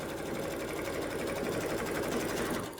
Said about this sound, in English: that will finish off the stitching that we're doing in there